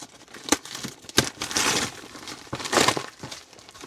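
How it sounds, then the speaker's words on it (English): A parcel box being unwrapped, with crinkling and tearing of packaging in several close, uneven bursts and bits of rustling between them. "Our next box of today, which let's move this out and just unwrap it."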